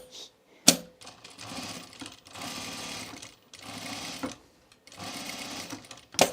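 A sewing machine stitches a dress in several bursts of rapid mechanical whirring and clatter, each run lasting about a second or so, separated by brief pauses and sharp clicks, close and fairly quiet.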